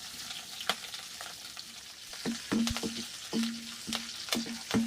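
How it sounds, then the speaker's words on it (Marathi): Curry leaves and chillies fry in a pan, giving a soft, hissing sizzle with sharp crackling pops and repeated short spluttering bursts that grow busier toward the end. "चांगली फ्राय करून घेणार आहोत."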